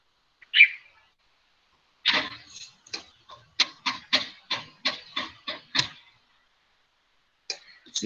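Small birds chirp outside, a burst of short, sharp, rhythmic chips after a single early call, fairly clear against near silence.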